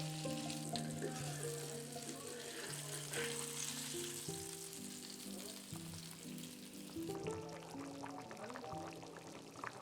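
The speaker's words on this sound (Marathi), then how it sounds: "हे मस्त फ्राय झालेत बघा" Fish frying in oil sizzles steadily throughout, a constant close crackling hiss with a faint tonal hum running beneath it.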